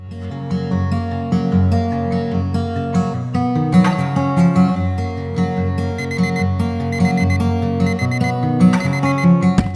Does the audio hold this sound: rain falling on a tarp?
no